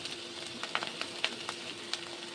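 Onion paste fries in hot oil for a fish curry, a steady close sizzle with sharp crackles and soft spatula stirs popping up at irregular moments, no voices.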